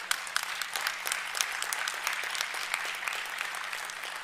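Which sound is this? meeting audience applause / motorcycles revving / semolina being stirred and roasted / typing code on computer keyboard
meeting audience applause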